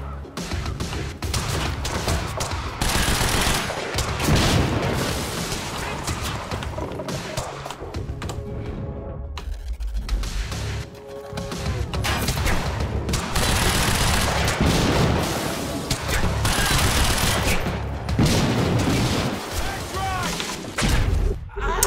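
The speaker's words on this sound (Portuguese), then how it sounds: "como é que estes gajos não morreram com estas explosões todas?" Heavy gunfire and repeated explosions from a Quantum Break firefight roar loud and dense almost throughout, with booming blasts, a brief lull mid-way, and game voices talking under the chaos.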